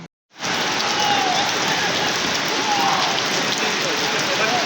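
Steady rain hisses evenly throughout after a brief silent start, a dense wash of falling drops with no break, at a cricket ground in Sylhet, Bangladesh.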